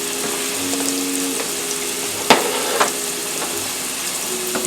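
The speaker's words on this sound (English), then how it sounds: "Now, I'm going to add my golden raisins, my dried cranberries, and my slivered almonds." Golden raisins, dried cranberries and slivered almonds sizzle in a hot pan with a steady frying hiss, broken by a couple of sharp clinks of a utensil against the pan.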